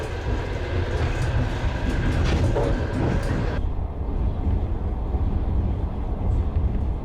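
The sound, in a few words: train running on railway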